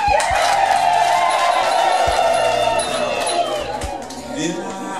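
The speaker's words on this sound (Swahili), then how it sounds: "Makofi kwanza." A crowd in Uganda cheers and whoops loudly and continuously at a staged event, with many overlapping voices holding a dense, sustained roar that eases slightly toward the end.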